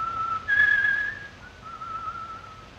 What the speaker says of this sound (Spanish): el Tony del original tiene una particularidad: que silba antes de matar